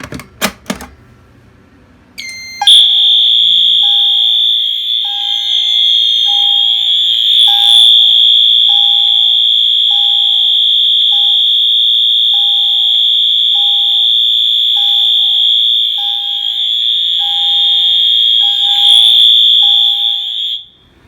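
A loud alarm device on medium volume sounds alone, a steady piercing high tone held for about eighteen seconds with a faint regular ticking pulse beneath it, then cuts off.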